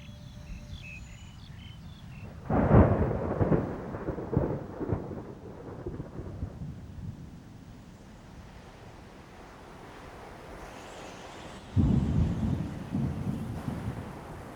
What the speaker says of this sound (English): it rains almost every day, and when it pours, the animals take cover anywhere they can